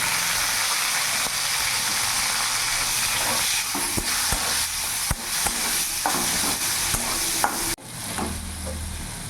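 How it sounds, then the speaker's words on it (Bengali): Whole garam masala tempering sizzling in hot oil in a pan with a large tomato added, a loud continuous fry with sharp spatula scrapes and stirring knocks, then a sudden hissy burst as it settles. "ফোড়নটা একটু ভাজা ভাজা হয়ে গেছে। এরই মধ্যে আমি একটা বড় সাইজের টমেটো দিয়ে দেবো।"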